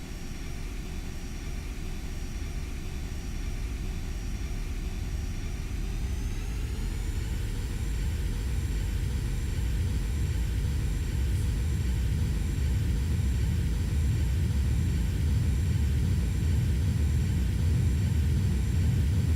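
A Cirrus SF50 jet accelerates down the runway on its takeoff roll in X-Plane 11, a steady loud engine whine and rumble that rises in pitch partway through, with no talking.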